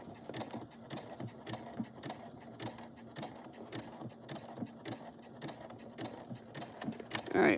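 A sewing machine stitches a bag in a steady run of rapid mechanical clatter, close and moderately loud, with a brief louder burst at the end.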